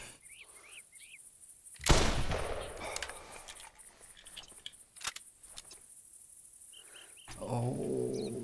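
Gunfire from a rifle during a black bear hunt in the video game The Hunter Classic: one sharp, loud shot stands out with a longer tail, followed by fainter cracks amid quiet outdoor ambience and bird calls.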